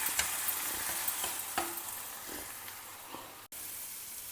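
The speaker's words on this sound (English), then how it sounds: "Now saute everything till the tomatoes turn soft and mushy." Tomatoes and roasted gram dal sauté in a pan with a steady, hissing sizzle and a few soft stirring scrapes, heard up close and alone for several seconds.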